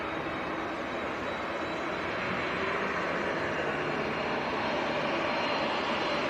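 A Jet2 passenger jet bound for Mahon at Manchester Airport gives off a steady, broad engine roar that swells slightly toward the end, with no voices over it.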